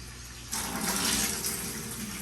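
Steady rushing water pours continuously during an aquarium water change, growing louder after a moment and holding a constant splashing hiss throughout.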